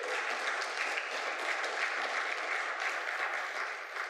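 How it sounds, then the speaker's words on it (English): A church congregation claps for a returning guitarist during a Sunday service, producing a sustained, uniform round of applause that holds at a steady level from start to finish. "y'all clap for him."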